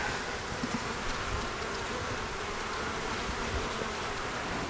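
Dense, steady buzzing of many honeybees in an open hive during an inspection, a continuous close drone filling the whole stretch with no speech.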